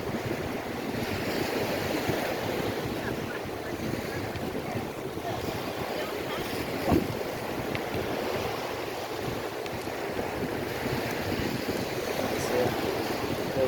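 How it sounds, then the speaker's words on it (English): Steady wind buffeting the microphone at Fort Myers Beach, Florida, with surf noise underneath, a continuous broad rush for the whole stretch while riding a bicycle along the sand. "Wind is dying down a little bit."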